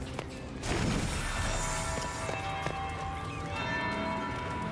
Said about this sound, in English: That's the bell. I should get back to the ballroom.